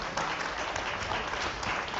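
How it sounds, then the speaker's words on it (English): Broad, even applause from a plenary session audience at an innovation week event, a steady wash of many hands clapping at moderate loudness with no speech. "Let's give them another better round of applause."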